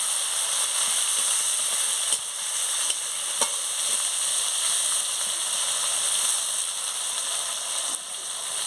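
Chopped onion frying in hot oil in a pan for a cabbage and fish-head chorchori, giving a steady, loud sizzle throughout with a few light clinks of a stirring utensil, close up and without talk.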